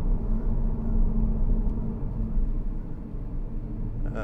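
Deep, continuous rumble from the 5.0 V8 engine of a 2012 Jaguar XK Portfolio, a steady, dense low roar with no voices over it.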